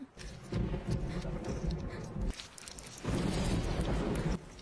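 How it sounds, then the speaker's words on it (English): Rain and thunder from a film scene in Pan's Labyrinth, with soft rainfall hiss interrupted by bursts of deep rumbling that swell and drop away, fairly quiet overall and with no talking. "There's rain."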